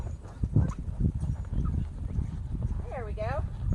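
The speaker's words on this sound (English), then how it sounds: "So we're going to ask for a little canter" A horse canters under a rider during riding exercises after nine months off. The hooves give soft, muffled rhythmic thuds, with a pitched vocal call near the end.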